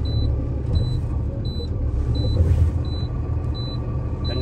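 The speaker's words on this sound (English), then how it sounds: "So now you're gonna start the truck up and pull against them to make sure they're holding." A truck engine idling and pulling against set air brakes during a brake check, a steady low rumble close by, with a faint high beep repeating at a regular pace over it and no talk.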